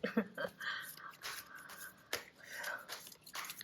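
Quiet shuffling of a deck of tarot cards, a few soft riffles and slides of card stock, close and gentle with no speech.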